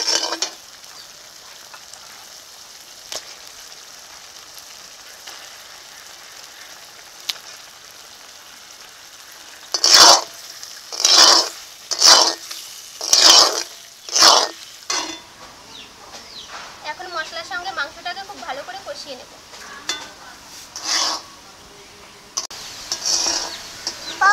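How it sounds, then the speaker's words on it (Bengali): Quail meat frying and being stirred into a spice paste in a pan: a soft steady sizzle, then a run of five sharp stirring scrapes and knocks around the middle, followed by lighter sizzling and clatter. "মশলাটাকে যে সুন্দর করে কষিয়ে নিয়ে এখন মাংসটা দিয়ে"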